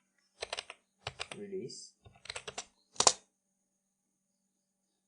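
A computer keyboard types out an ipconfig release command in a few quick bursts of crisp clicks, with a voice speaking between the keystrokes.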